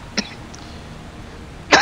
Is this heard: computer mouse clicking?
no